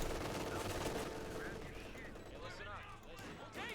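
Sustained gunfire from a .50 cal machine gun in Company of Heroes 2, dense rapid bursts of battle noise running throughout with someone commentating over it.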